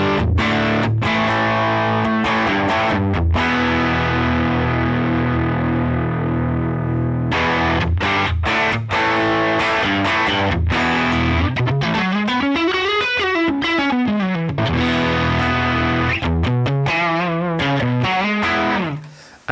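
An electric guitar plays through the Line 6 Helix Ventoux amp model with the presence turned all the way up. Heavily distorted chords and riffs ring loud and close for the whole stretch, then stop abruptly at the end. No voices.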